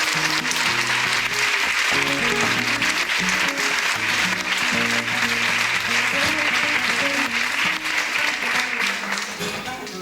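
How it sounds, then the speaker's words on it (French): Loud audience applause at a flamenco contest, sustained clapping over a steady background of music or tonal sound, continuing evenly throughout with a slight drop at the close. "On peut applaudir."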